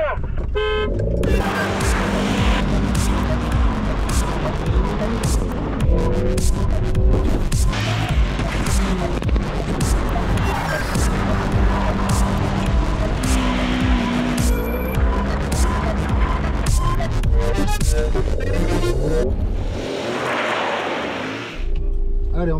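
An Alpine car doing a stunt run for an action film shoot, engine revving loud and close with tires squealing and skidding continuously, the engine dropping away near the end.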